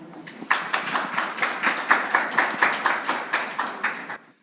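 An audience at a youth policy debate forum applauds two first-year middle school student presenters, with a steady run of distinct, fairly close claps that keeps an even rhythm before stopping abruptly.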